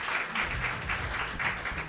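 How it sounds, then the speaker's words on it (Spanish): Audience at a live poetry festival applauding, a steady, fairly quiet patter of many hands clapping, heard briefly and without talk. "un fuerte aplauso también para 990"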